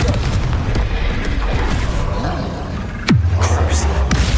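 Confringo fire spell explosion in Hogwarts Legacy, a loud roaring boom in the middle of a game fight, with a sharp swooping blast near the end and a deep rumbling tail.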